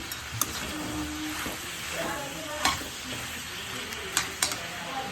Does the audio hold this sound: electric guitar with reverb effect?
no